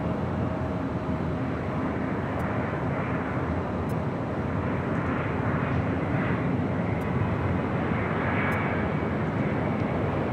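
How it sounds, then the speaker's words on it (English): A Starlux Airbus A350-900 airliner arrives at Los Angeles International Airport from Taipei, its engines making a steady, loud broadband roar that holds constant throughout. "Starlux, Flight 2 coming up from Taipei, A350-900"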